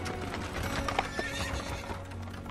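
Hooves clip-clop steadily at close range with a horse whinnying over them, from an animated Western adventure set in Texas.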